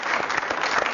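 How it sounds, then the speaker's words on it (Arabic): Brief burst of studio audience clapping on a comedy jokes show, a dense, even patter of many hands lasting about a second with no voices. "يلا تصفيق له تصفيق خلينا نشوف"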